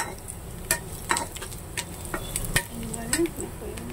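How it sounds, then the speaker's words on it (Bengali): Eggs frying in hot oil in a wok while being stirred, a soft crackling sizzle under scattered scrapes and clinks of the utensil, close and moderately loud, no talking. "ডিমটা একটু ভেজে নিই।"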